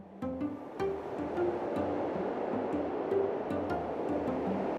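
Modded Minecraft mountain ambience, a steady broadband wind-like rush with faint tonal notes and soft ticks scattered through, continuous and moderately quiet throughout.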